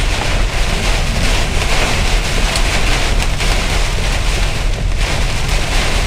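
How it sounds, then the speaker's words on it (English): Heavy rain sweeping across a parking lot drums steadily on a surface close by, a dense, loud hiss with gusty wind noise and no voices. "See that rain coming across that parking lot?"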